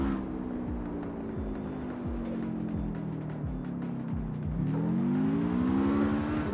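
Car drifting in the street-racing game CarX Street, a steady engine drone with rising and falling revs and a rhythmic low throbbing, swelling louder near the end with no talk.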